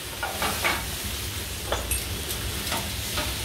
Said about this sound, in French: Je vais déglacer au cognac, déglacer et flamber.